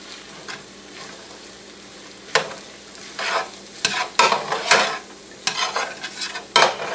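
Corn fries in a pan and is stirred with a spoon, giving a faint steady sizzle broken by repeated scraping strokes that come in irregular bursts, close and fairly loud.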